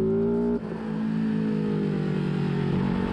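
A Suzuki SV650 racing motorcycle on the Anglesey circuit, its engine holding a loud, steady high-revving drone, briefly dipping as it shifts gear, then climbing again.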